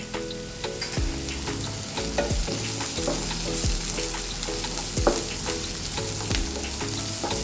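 Cashews and sliced onion frying in ghee in a pan, a continuous loud sizzle broken by repeated scraping stirs and spoon taps at irregular intervals, close up with no talk.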